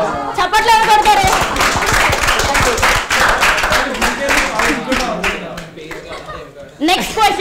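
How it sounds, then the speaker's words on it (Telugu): Audience of college students at an MLR Institute of Technology event claps in a loud, dense burst of applause. Chatter and chuckles run through it, voices talk over the clapping, and a fresh round of claps rises again near the end. "చప్పట్లు కొడతారు."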